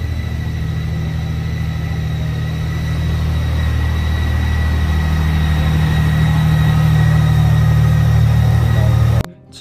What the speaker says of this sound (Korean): 얘도 시동 걸어야 되는데